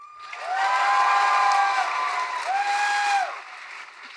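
A Comic Con panel audience applauds steadily, with cheering and drawn-out whooping voices rising above the clapping before it fades away.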